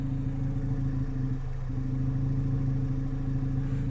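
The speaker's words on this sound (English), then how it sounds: "we do have the Borla Ford Performance exhaust on here." A Ford car fitted with a Borla Ford Performance exhaust idles with a steady, mellow low rumble that holds constant throughout, close by and without any talking.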